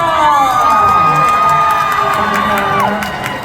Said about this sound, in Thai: ถ้าพร้อมแล้วขอเสียงกรี๊ดดังยให้เจมมา